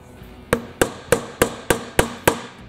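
Seven evenly spaced metallic hammer taps on a punch, driving a seal into a Briggs & Stratton V-Twin Intek engine, each strike sharp, close and ringing briefly, with no talking.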